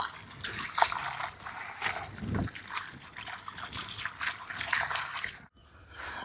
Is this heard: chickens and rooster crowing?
no